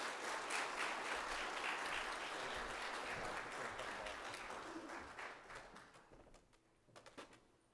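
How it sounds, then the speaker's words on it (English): An audience at an applied economics summer symposium applauds presenting groups in a room, steady dense clapping that gradually thins and fades with a few last scattered claps. "let's give them and all the groups a round of applause"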